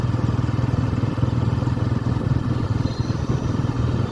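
A motorcycle engine hums steadily with a low, even throb and faint clatter as the bike is ridden at night in Jim Corbett National Park. The sound stays close and constant throughout, with no talking.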